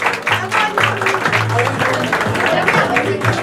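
Audience at a DJ-run live event clapping loudly for a singer, a dense, steady burst of applause with faint voices and music mixed in underneath.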